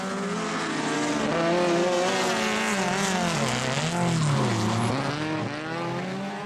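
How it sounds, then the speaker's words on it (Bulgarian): A Peugeot 206 Super 1600 race car drives the Dolna Mitropolia circuit, its loud engine wailing and sweeping up and down in pitch through gear changes as it passes close, with no talking. "На трета временна позиция по трасето наблюдавате Цветомир Цанков с номер 35 с Peugeot 206 Super 1600."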